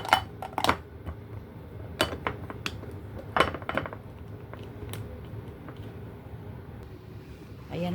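A plastic lunch container is closed with its lid in a home kitchen, giving a few sharp clicks and clinks near 0.5, 2 and 3.5 seconds against a low steady background hum.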